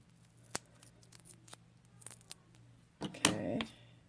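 Scissors snipping paper in half for mini gift boxes, a few quiet, sharp cuts spread across a calm room, then a louder rustle of the paper near the end.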